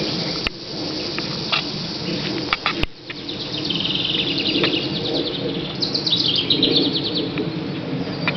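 Outdoor garden ambience with chirping birds and a steady insect buzz or trill, interspersed with light tapping and rustling, moderately loud and continuous.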